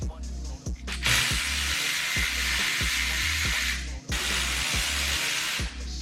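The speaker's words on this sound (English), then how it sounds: "So it's a 12 mil and an electric ratchet." Electric ratchet spinning out 12 mm bolts while removing a CD009 transmission part from an IS300: two long, loud bursts of whirring, hissing drive with a rapid mechanical rattle, separated by brief pauses, close to the mic.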